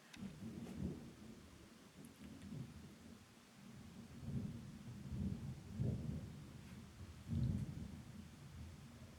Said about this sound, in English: Could you hear that? We've got a thunderstorm.